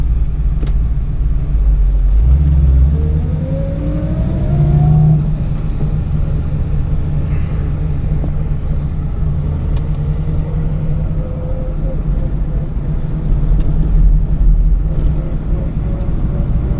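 A big F truck rumbles past with a deep engine roar that swells and fades, heard over the steady drone of a car driving along.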